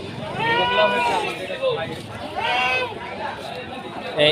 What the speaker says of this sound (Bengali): এই ছাগলগুলো আছে